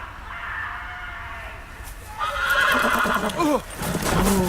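A horse in the video game Game of Thrones: Episode One whinnies with rising and falling pitch, followed by restless snorting and movement, set against steady ambient background noise.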